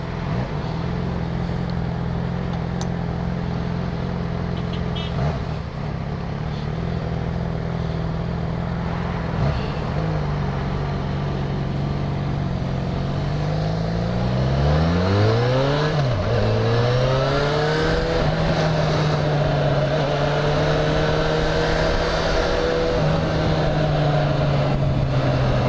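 Engine noise from heavy road traffic heard from a motorcycle lane splitting through congestion: a steady drone that rises in pitch as the bike revs and accelerates midway, then settles back to a sustained hum.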